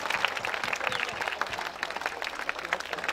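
An audience claps for a pastor at a Christmas gathering, a lively, continuous patter of many hands with some sharper individual claps and faint crowd voices underneath.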